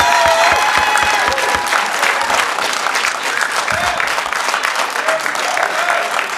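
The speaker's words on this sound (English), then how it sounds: "members of the public, please stop applauding" Members of the public applaud at a state Assembly meeting: a loud, dense, sustained wash of clapping hands filling the whole stretch, with faint voices mixed in.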